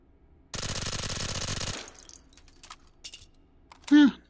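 Rapid automatic gunfire at a target in the VR shooting game Hot Dogs, Horseshoes & Hand Grenades, a dense burst of about a second followed by a few scattered clicks and a short tonal blip.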